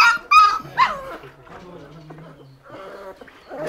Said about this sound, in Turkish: bir de köpek var burada. Bunlar şu anda 29 günlük